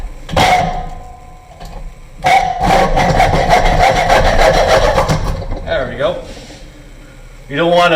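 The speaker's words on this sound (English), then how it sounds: "So I'm going to take care of the rest of it with a hacksaw." A hacksaw cuts through a worn Dremel cutting blade, giving loud, rapid rasping strokes in bursts with short pauses, close up, and a voice talks briefly near the end.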